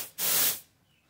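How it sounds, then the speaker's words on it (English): Single short burst from a paint spray gun spraying car paint on a Dodge Neon, a close, loud airy hiss lasting about half a second before it cuts off. "I'm trying to figure my spray pattern."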